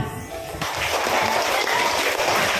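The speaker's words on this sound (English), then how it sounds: "We are clapping." Children clapping their hands together in a classroom during an English lesson, a dense, steady patter of claps that swells and holds, close and fairly loud with no talk.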